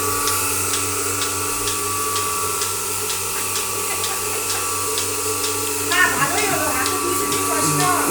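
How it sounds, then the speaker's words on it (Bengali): A Turkish milking machine milks a cow with a steady droning motor hum and a regular, rhythmic clicking pulse, all fairly loud and continuous, while someone speaks over it. "এছাড়া আপনারা দেখতে পাচ্ছেন এটি হলো তুরস্কের দুধ দোহানো মেশিন।"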